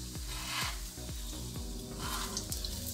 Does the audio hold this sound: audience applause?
no